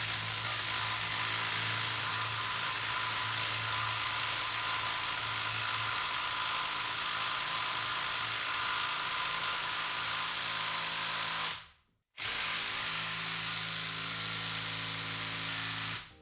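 An impact driver fitted with an angle adapter drives a bolt into a pilot hole with a steady, close whirring hum. The hum cuts out briefly near the end, then resumes.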